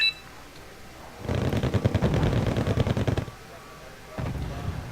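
A Patriot missile system fires in a strategy video game, a rapid rattling burst of repeated shots lasting about two seconds, then a quieter stretch and a softer rumble.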